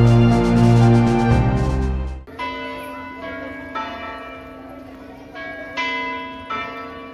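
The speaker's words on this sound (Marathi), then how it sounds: "पॅलेसच्या परिसरातील हा घंटानाद प्रत्येक तासाला होत असतो." A large bronze bell at Shahu Palace in Kolhapur strikes the hour: a run of loud, ringing chimes with long resonant decays, each new stroke sounding over the fading hum of the last.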